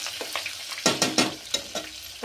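Onion hitting hot oil with ginger-garlic paste and chilli sets off loud crackling sizzles in quick bursts, close up, with a few sharp spatters over a frying hiss.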